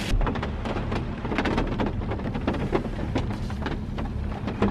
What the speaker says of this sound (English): Kind of water, it's falling on your truck, man. It's falling everywhere.